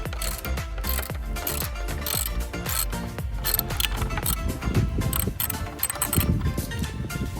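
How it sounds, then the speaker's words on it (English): A 9/16 inch wrench ratcheting as it loosens bolts on a power pole fitting, rapid metallic clicks in uneven bursts, close and clear with no talking. "let's grab our 9/16 inch wrench and let's get this done"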